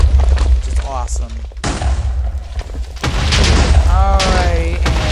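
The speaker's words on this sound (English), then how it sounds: "if I right click, boom. It explodes." A fire staff from a Minecraft magic mod goes off on right click in the video game, a loud booming explosion with a dense blast and rumble that spreads into continuous roaring noise, with a voice talking over parts of it.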